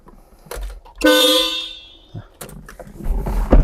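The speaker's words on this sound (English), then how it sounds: "And then I'll check the horn." The horn of a Porsche 914-6 sounds once, a loud, steady, slightly nasal beep of about a second, with faint handling noises before and after.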